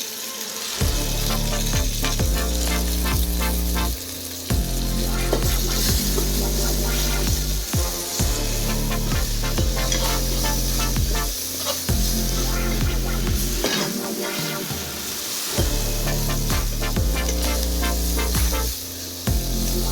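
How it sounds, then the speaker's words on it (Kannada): Mint and coriander leaves fry in a pan for a village-style Karnataka chicken curry, giving a steady close sizzle with repeated stirring scrapes and brief pauses, no voices. "ಈಗ ಪುದೀನ ಕೊತ್ತಂಬರಿ ಎಲ್ಲ ಚೆನ್ನಾಗಿ ಫ್ರೈ ಆಗಿದೆ"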